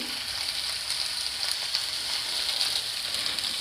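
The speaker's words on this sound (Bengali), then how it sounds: "নুন আর হলুদটাকে আর একটু ভেজেও নিচ্ছি" Jujube berries frying with turmeric and salt for a bottle gourd chutney, a steady close hiss of oil sizzling with no break or talk.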